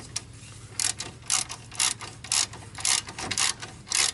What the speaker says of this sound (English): This is a ratchet.